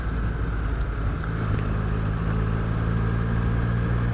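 A 2020 Triumph Street Triple 765 RS running on its standard exhaust, a continuous steady engine drone with wind noise, heard from on the bike at constant loudness without speech.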